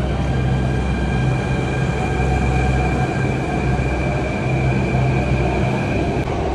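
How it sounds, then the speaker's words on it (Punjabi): A crowded Delhi Metro train pulls away from the platform in a steady, loud rumble of wheels and motor hum with a faint high whine, continuous throughout without any talking. "ਇੰਨੇ ਮੈਟਰੋ ਛੱਡਦੀ ਆ, ਇਹ 'ਚ ਭੀੜ ਵਾਲੀ ਆ, ਹੁਣ ਇਹ ਚੱਲੀ"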